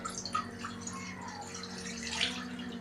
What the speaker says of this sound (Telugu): దీంట్లో నీళ్ళు పోసుకోవాలి